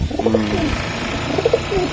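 Pigeons cooing in a loft of breeders' stock, several soft repeated coos overlapping close by against a steady background hum, with no talking.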